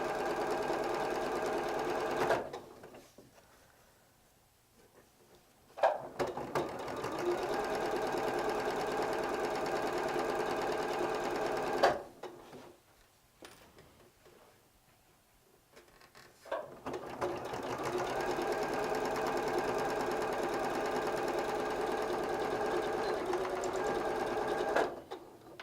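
Sewing machine stitching rows of a videogame-themed quilt together, running in two long steady whirring bursts with a pause between them, close and fairly loud with no talking.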